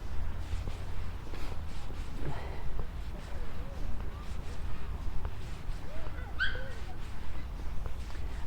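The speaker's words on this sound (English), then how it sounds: "there's people out here walking the dogs" Dogs out walking on all-weather pitches at Blackpool's Stanley Park give a few faint whimpers and yips, with brief distant barks under steady outdoor background noise and occasional birdsong.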